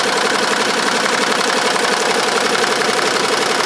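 An embroidery machine stitches a name patch at about 750 RPM, a loud, steady, rapid mechanical chatter of needle strokes that runs without pause throughout, with no voices.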